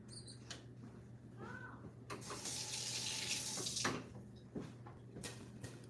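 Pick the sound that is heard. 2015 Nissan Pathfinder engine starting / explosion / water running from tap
water running from tap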